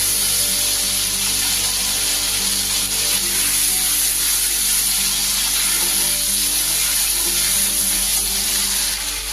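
Two teaspoons of ginger and green chili paste frying in a pan for a vegetarian paneer and cauliflower dish, making a loud, steady hissing sizzle that holds without pause from start to finish, with no voices.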